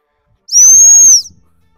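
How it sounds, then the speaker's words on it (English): A gundog stop whistle is blown once during training, a single loud, piercing steady tone lasting under a second, alone against silence. "All I did was blow my stop whistle."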